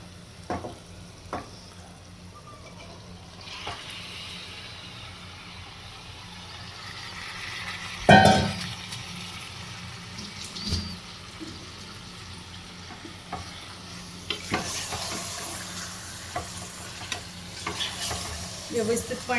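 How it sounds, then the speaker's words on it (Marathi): Chicken sautéing in oil in a pan makes a steady close sizzle with repeated scraping and stirring, a sharp clatter near the middle, and louder crackling toward the end. "यामध्ये आपण चिकन घालून घेऊयात"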